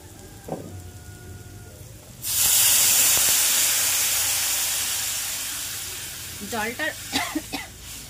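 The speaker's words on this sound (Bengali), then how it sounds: "এখন দিয়ে দিচ্ছি জল" Water hits hot spice masala in a pan with a sudden loud hiss of steam that fades slowly over several seconds, with a voice before and after the burst.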